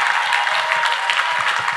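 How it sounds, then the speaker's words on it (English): Steady, dense applause from a large church congregation, clapping loudly and evenly throughout. "Can you clap for Master Jesus?"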